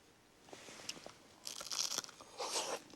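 Crisp, crunchy food is chewed near the listener in a rural village in Nagano Prefecture, Japan, a run of soft bites followed by louder, denser crunching bursts, with no talking.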